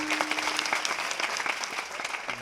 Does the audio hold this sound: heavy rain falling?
no